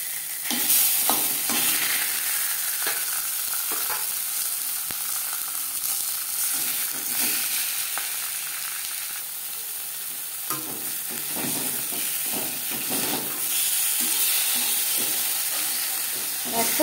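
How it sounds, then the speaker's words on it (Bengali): Fish fries lightly in about a spoonful of oil in a pan, giving a continuous bright sizzle and hiss with occasional stirring and scraping sounds throughout. "সবার প্রথমে আমি মাছ খুব হালকা করে ভেজে নেব।"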